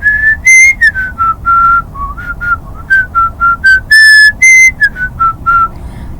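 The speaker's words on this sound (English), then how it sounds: "I love whistling that song." Someone whistles a song, clear bright notes in a lively melodic phrase, some held and some short, close and loud with no talking.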